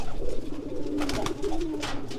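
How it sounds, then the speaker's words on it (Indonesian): A newly acquired racing pigeon coos nearby, its soft low throaty calls repeating in short rolling bursts over outdoor background noise. "Ini merpati baru nih"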